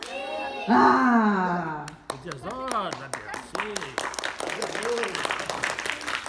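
A small group claps along in bursts of sharp hand slaps, starting after a shout and settling into an uneven rhythm, close and fairly quiet, with voices talking over it.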